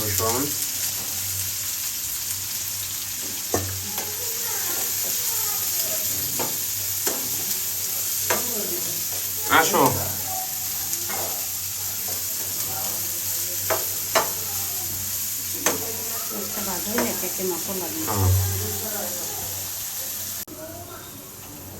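Spice paste with onion and garlic fries for a pabda fish dish, sizzling steadily in the pan with repeated stirring scrapes and clinks, while people talk briefly nearby.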